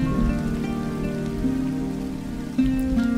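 Steady rain falls outdoors, a dense continuous patter that stays even throughout, with a faint tonal hum underneath.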